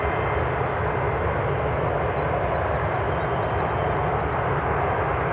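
An airplane at Newcastle International Airport gives a steady, loud broadband roar that holds throughout without any letup, with no talk over it.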